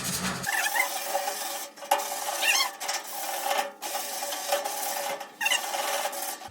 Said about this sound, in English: I'm just going to finish sanding real quick.